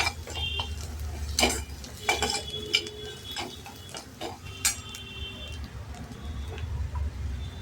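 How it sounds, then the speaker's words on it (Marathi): Ginger-garlic masala paste sautéing in a pan, with repeated clinks and scrapes of a spatula against the metal over a low, steady background. "वाटण टाकूया आणि छान परतून घेऊया"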